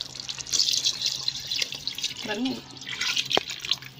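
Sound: pouring water into chicken biryani pot

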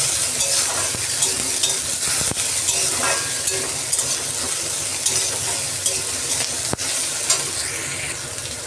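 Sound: frying onion with ginger and garlic

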